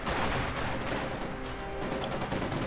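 Dense gunfire from the Company of Heroes 2 video game, with rifle grenade and machine gun fire blending into a continuous loud rattle of shots and blasts.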